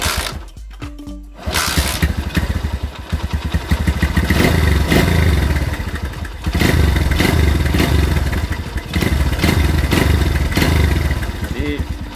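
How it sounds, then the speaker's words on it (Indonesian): A motorcycle engine started after a spark plug check, catching after a brief pause and then running loudly up close with a steady rough idle and occasional revs. "Kita cek ya, apakah mesin saya ini berbet atau tidak."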